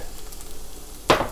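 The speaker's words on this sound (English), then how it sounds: "make room in the center and go in with some shrimp" Shrimp hitting a hot pan for Szechuan shrimp, a sudden loud sizzle bursting up after a quiet low hum and continuing briefly, close by.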